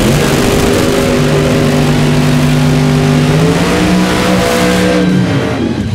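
A Chevrolet Nova drag car with an 8-71 supercharger blower under the hood revs loudly at a dragway, its engine droning steadily with a rising pitch near the end.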